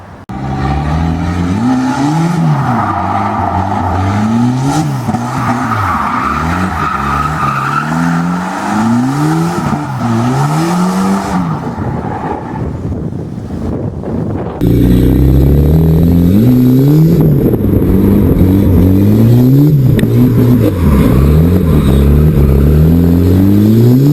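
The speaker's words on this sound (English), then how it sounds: "we may as well do a bit of a drift" Volvo 940 drifting: the engine revs up and down in repeated surges while tires squeal and skid, loud and close, with a brief lull in the middle before the revving resumes.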